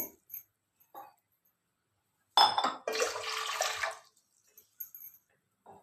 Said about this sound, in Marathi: त्याच्यामध्ये तीन ग्लास आपण पाणी ओतूया